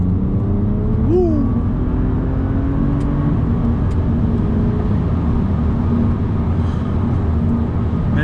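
A BMW Z4 35is pulling along a road under moderate throttle, a steady loud engine drone with rising tonal sweeps under dense road and wind noise, heard from inside the car.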